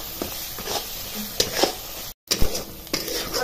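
Masala paste sizzling and frying in oil in a pan while being stirred, a steady close hiss with scraping stirs and a brief cut partway through, no talking.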